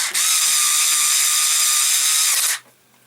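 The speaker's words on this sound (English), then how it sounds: "drill the lanyard hole yet." A power drill whines steadily while boring a lanyard hole in a handmade friction folder knife, one loud sustained run of about two and a half seconds before spinning down and stopping.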